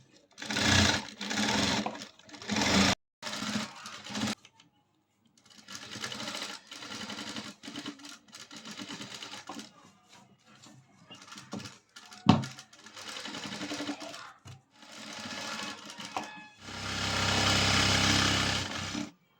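A sewing machine stitches the side seam of a blouse in repeated short bursts of fast mechanical whirring and clatter, separated by brief pauses, ending with a longer steady run, close and clear with no talk over it.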